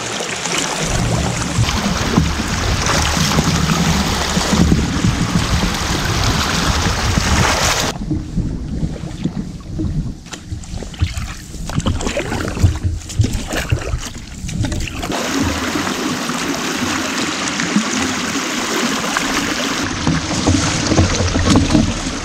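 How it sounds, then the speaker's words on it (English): Canoe paddling on open water in the wilderness: loud, close splashes and swishes of the paddle through the water, continuing rhythmically with a brief quieter stretch midway. "It's just a beautiful day for paddling."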